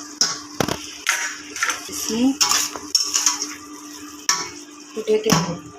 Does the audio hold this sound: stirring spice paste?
yes